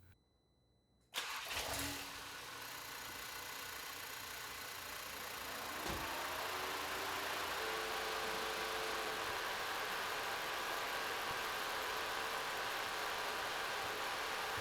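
A car with a 2.0 TSI engine, undergoing a cooling system flush, cranks and starts after a short silence, then settles into a steady, close idle hum with a slight rise partway through.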